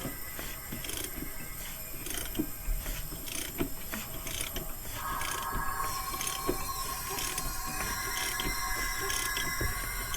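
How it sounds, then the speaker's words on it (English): A 2013 Subaru STi engine's crankshaft is turned by hand during a leak-down test, giving a steady mechanical ratcheting and clicking with a constant hiss of air pressure and a whistle-like tone joining midway. "spin the crank."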